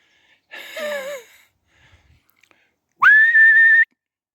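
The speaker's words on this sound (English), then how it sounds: "Quick whistle and he's straight back." A person whistles outdoors to call back a lurcher dog: a short warbling whistle, a pause, then a longer, loud, rising, sustained blast close by.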